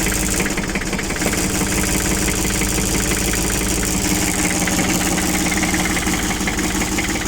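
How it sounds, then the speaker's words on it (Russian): A Kubota GL33 tractor with cab runs its engine steadily while turning, a loud, close, continuous low knocking drone with constant vibration and no talk. "Пока трактор развернется."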